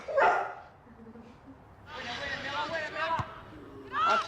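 Two dogs bark and yip in short bursts at moderate distance, mixed with a person speaking.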